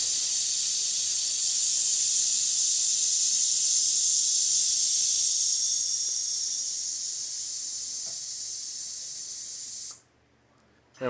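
Air ride suspension on a 2021 Harley-Davidson CVO Tri Glide with a Milwaukee-Eight engine vents air as the trike lowers, a loud, close, steady hiss that fades slightly before cutting off abruptly near the end.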